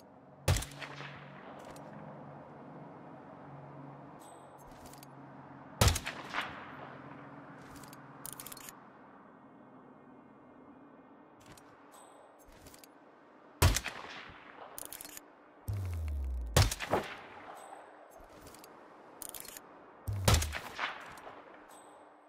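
Explosions and gunfire in the Siberia mission of the video game Hitman 2, arriving as several sharp broadband blasts over a steady low ambient rumble, with one heavier boom followed by a short crackling tail.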